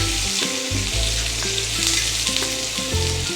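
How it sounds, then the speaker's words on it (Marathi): Finely chopped onion fries in hot oil for boiled egg bhurji, giving a continuous, close, loud sizzle with faint stirring underneath. "तेल गरम झाले की लगेच बारीक चिरलेला कांदा परतून घ्या।"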